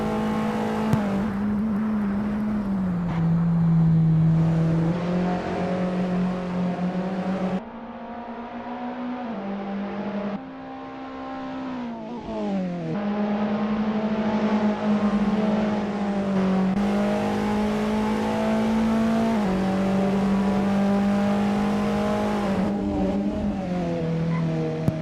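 Formula Alfa race cars in a sim racing league race roar with high-revving engines, pitch rising and dropping through gear changes and corners, a steady, loud drone with no talking.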